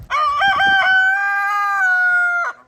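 A rooster crows loudly and close in a California homestead garden, one long sustained cock-a-doodle-doo with a clucking, stuttering start, heard alone.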